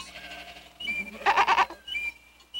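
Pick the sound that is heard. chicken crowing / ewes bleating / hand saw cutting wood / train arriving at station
ewes bleating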